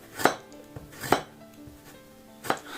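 A knife thinly slicing gobo burdock root on a cutting board, three sharp, separate chops spaced unevenly, close and crisp, with no voices.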